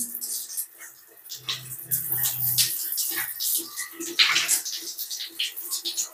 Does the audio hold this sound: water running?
yes